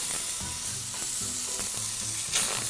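Duck breast sears skin-side down in a single spoon of butter in a hot pan, crackling and sizzling continuously with irregular spattering pops close up.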